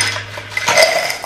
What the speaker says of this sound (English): Now you wanna get your ice cubes of choice and put them in.